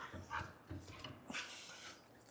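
Dogs making soft whimpering yips and short vocal bursts close by, a few brief cries spaced across a couple of seconds, fairly quiet.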